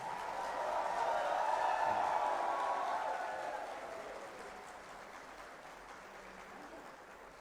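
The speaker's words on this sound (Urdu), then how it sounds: "تو باہر والے بھی تالیاں بجائیں, اندر والے بھی تالیاں بجائیں" Audience applause fills a conference hall at an Urdu literary gathering, a broad steady wash of clapping that swells loud in the first few seconds, then thins and fades to a softer patter.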